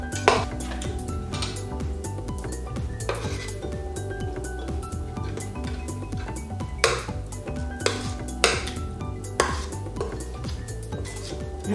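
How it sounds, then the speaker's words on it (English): A metal spoon clinks and scrapes against a bowl while grits are scooped in, giving repeated sharp taps and scraping at close range with no talk. "I'm going to just spoon those grits in my bowl"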